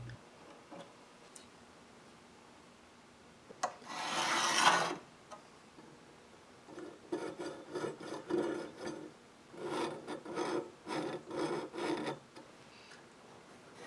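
Hand beveling of a steel sword blade with a file, a rasping scrape heard first as one long stroke and then as a run of shorter, regular strokes, fairly quiet and close with no talk.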